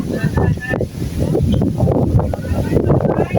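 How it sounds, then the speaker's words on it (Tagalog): Strong wind roars and buffets the microphone steadily at the top of Mount Faber, Singapore, with people talking underneath the rush. "Grabe lakas ang hangin dito."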